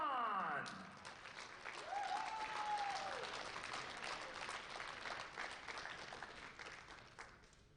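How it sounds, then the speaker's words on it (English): A crowd at a powerlifting national championship applauds a Masters 93 kg gold medalist, a swell of clapping after a brief whistle-like tone, holding steady and easing slightly toward the end, with faint talk beneath. "A big round of applause for Triple G, Gary G. Grant."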